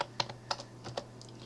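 Keys tapped on a computer keyboard while drafting in AutoCAD, with the Tab key pressed to enter an angle: about four sharp, distinct clicks spaced unevenly across a second and a half, close and fairly quiet, with no voice.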